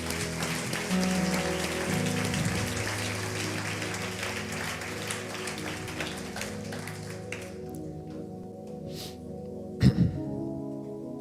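Church congregation applauding during a worship service, broad steady clapping under sustained music that thins out midway and gives way to quieter sound with a couple of sharp knocks near the end.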